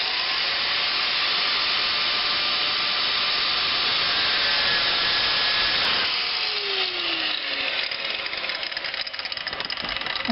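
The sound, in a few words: cutting off muffler pipe on Dodge Grand Caravan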